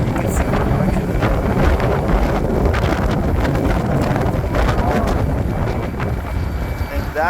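Strong wind blows at a Texas oil site, buffeting the microphone in a steady, loud roar that lasts for several seconds without a break.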